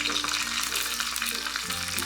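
Dried red chillies fry in hot ghee for a pepper chicken tempering, a steady close sizzle of oil filling the whole short stretch with no voices.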